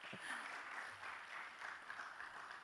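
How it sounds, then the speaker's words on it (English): An audience at a cybersecurity breakout session of a Nairobi tech week conference claps in a steady, even patter of applause lasting a few seconds, moderate in level with no voices over it. "Yeah, clap."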